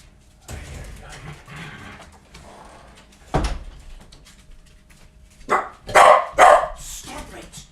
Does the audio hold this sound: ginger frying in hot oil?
no